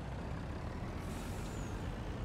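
A truck's air brake releases with a soft hissing burst over a steady low engine rumble in Farming Simulator 19, brief and moderately close, no talk.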